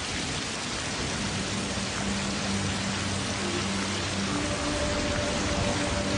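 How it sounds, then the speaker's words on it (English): Rain falling steadily outdoors in California, a dense continuous hiss of drops with a faint low rumble underneath, no voices. "It's starting to rain."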